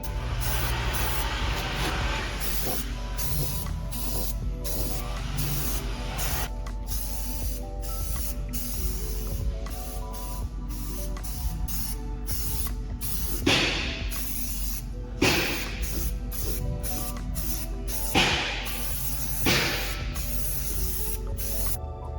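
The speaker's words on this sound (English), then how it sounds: "we're just gonna go ahead and start spraying this" Repeated bursts of aerosol spray paint hissing from a rattle can, steady and close, broken by short pauses between passes, painting a car engine bay.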